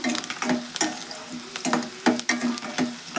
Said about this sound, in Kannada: ಎಣ್ಣೆ ಒಳಗೆ ಚಲೋ ಚೆಂದ ಫ್ರೈ ಆಗ್ಬೇಕು ನೋಡ್ರಿ